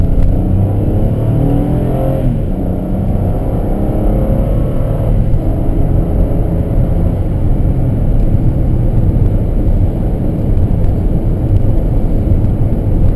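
Steady, loud engine drone from inside a 2012 Honda Crosstour pulling away under throttle, a dense low rumble with road noise that holds constant for several seconds without speech.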